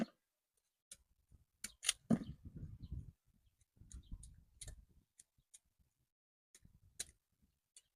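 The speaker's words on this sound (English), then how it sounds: "Any stick of the stem of the tuber like this, we cut it away. Then any fibrous root attached, cut them away." A knife cuts stem stubs and fibrous roots off cassava tubers, producing faint, sparse clicks and short scraping crunches in a quiet setting.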